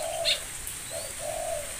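A tame pet bird, pigeon- or dove-like, gives a few soft coos in a quiet, close setting with faint background hiss.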